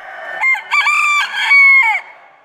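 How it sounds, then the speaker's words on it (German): A rooster crows at a youth poultry show: one loud, close cock-a-doodle-doo in several rising and falling bursts, ending in a drawn-out final note. "Und das bringt uns zu dem Hahn."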